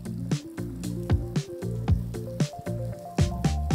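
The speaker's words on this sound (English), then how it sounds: "you can hear what sounds like water going through pipes. And then you realize that there's like a waterfall inside this column of ice." Water runs and gurgles inside a column of ice in a frozen waterfall cave in backcountry Newfoundland, a close, fairly loud string of rhythmic glugging drips and squishy pulses like liquid moving through pipes.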